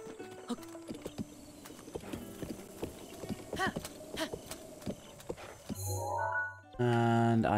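Horse hooves clip-clop in a steady rhythm in The Legend of Zelda: Breath of the Wild, moderately close, with game music and effects around them and louder sounds near the end.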